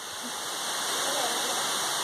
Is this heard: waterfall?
yes